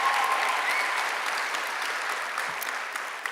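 Audience applause at a Stanford athletics awards ceremony, a dense, even wash of many hands clapping from a large crowd, sustained and slowly fading slightly.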